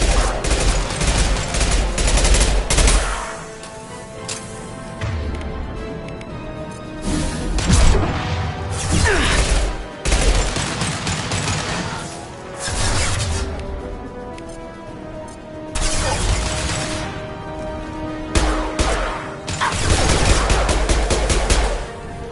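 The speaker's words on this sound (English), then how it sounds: "This should scramble their systems. Firing concussive shot!" Mass Effect 2 combat firing, with dense bursts of gunfire and heavy impacts repeating loudly in waves over about twenty seconds, with a few short lulls between the volleys.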